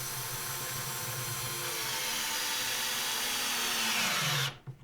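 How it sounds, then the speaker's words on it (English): A cordless power driver runs continuously, whirring loud and close as it drives and removes screws while building a rolling cart for a Dewalt planer, then stops abruptly with a couple of light knocks. "I'm using it to take screws out of one thing and put screws back in somewhere else."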